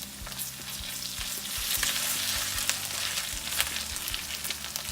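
Pork chop, garlic and tomato paste sizzle steadily in a pan for Filipino menudo, with occasional stirring scrapes over a continuous loud fry.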